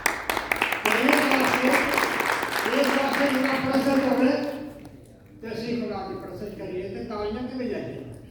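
A worship congregation at a Resurrection Day service claps rhythmically along with a choir song, sharp regular claps under the singing voices before they fade to quieter singing.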